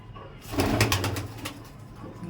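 Pigeons coo softly and closely in low, repeated throaty pulses, with light rustling around them, as they are handled for deworming.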